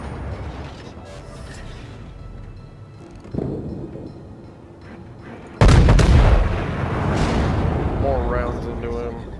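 Naval guns fire from a warship in the World of Warships video game. A heavy boom lands early, then a louder, sustained blast of gunfire rolls on and fades slowly over the background.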